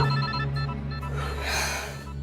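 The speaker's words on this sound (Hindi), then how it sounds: "फोन उठाओ ना।" A telephone rings indoors during a Hindi crime-drama television scene, with a steady, sustained ringing tone across the whole moment and no voices over it.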